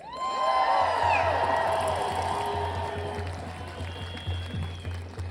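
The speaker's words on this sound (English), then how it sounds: "Let's give them all one more big warm cheer." A rally crowd at a No Kings protest in Chicago erupts in loud cheering and whoops near and far, with scattered shouts swelling early then tapering into lingering hollers.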